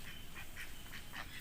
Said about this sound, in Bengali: সব হাঁসগুলো পালাচ্ছে